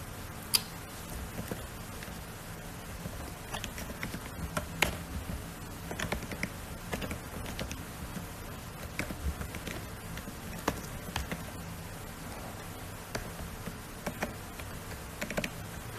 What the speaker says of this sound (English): I'm on my laptop and I have to type like this